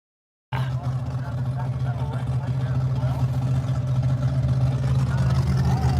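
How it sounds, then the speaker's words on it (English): A supercharged top fuel dragster engine runs at a drag raceway as it prepares to race, giving a loud, steady, low rumble that holds throughout. Crowd voices and talk sit underneath. "There's the supercharged dragster getting ready to run."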